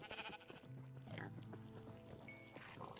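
A sheep bleats in Minecraft with the Biomancy 2 mod installed, one drawn-out wavering cry followed by softer overlapping bleats, heard close and clear.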